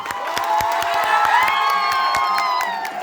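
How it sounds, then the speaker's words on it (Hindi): An audience claps, cheers and shouts together, a dense steady roar with sharp whoops standing out across the whole stretch. "एक बार सभी मिलके और एक बार तालियां होनी चाहिए"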